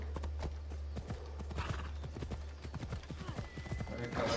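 Horse hooves clip-clop in the video game Assassin's Creed Odyssey, a brisk run of hollow close hoofbeats over a steady low hum, with a brief whinny toward the end.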